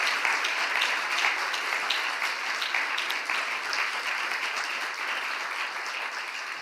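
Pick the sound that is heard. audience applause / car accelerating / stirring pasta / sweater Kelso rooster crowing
audience applause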